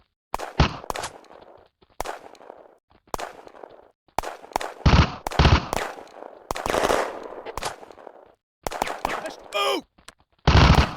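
Gunfire in a firefight, repeated bursts of sharp close shots and automatic fire broken by short pauses, with shouted voices between the bursts.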